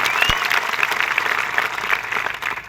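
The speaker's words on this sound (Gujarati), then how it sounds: "જોરદાર તાળીઓના ગણગણાટથી એમનું સ્વાગત કરી લઈએ" A crowd at a public stage event in Narmada district claps loudly to welcome a local legislator. The applause is dense and sustained, with a brief thump near the start and faint voices mixed under it.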